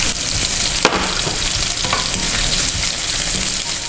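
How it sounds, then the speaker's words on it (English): Ground pork sizzles steadily in a hot pan, a dense continuous frying hiss with a brief sharp clink near the start and soft stirring scrapes throughout, close and fairly loud with no talking. "we're going to cook up our ground pork now"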